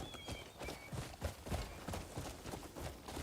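Horse hooves clop in a steady trotting rhythm in the Crimson Desert video game, a repeated series of soft thuds at moderate distance with faint ambient tones.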